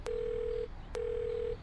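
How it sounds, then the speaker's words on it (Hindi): Two long, even telephone tones sound while a call is placed, each starting with a click and holding steady for about half a second, separated by a short pause against faint hiss. "गुस्से से लाल पुत्तन चाचा ने फौरन कैमरे वाले को फोन किया और कहा"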